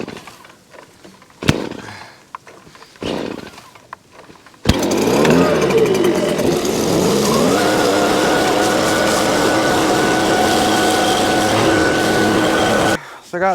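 A few thumps and clanks, then a tractor engine starts and runs steadily nearby with a droning, rattling hum before cutting off.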